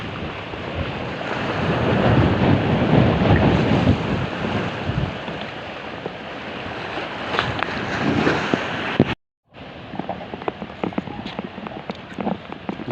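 Strong wind roars into an outdoor microphone along the sea coast during a typhoon, with the rush of waves beneath. The loud, continuous buffeting breaks briefly in a short dropout, then resumes with gusty bursts.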